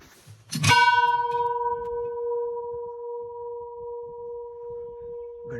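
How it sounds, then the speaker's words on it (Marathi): A temple bell is struck once near the start and rings loud and clear, its pure tone humming on in a long, slowly fading sustain, with a faint second touch at the very end. "घंटेचा नाद हा अतिशय सुरेख आहे"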